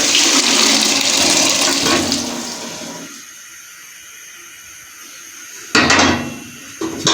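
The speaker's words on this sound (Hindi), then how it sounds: "इसी यखनी समेत हम मसाले में चनों को ऐड करते हैं" Boiled chickpeas and their stock are poured into a pot of masala, a loud gushing, splashing rush of liquid that tapers off, followed by a couple of short clattering bursts near the end.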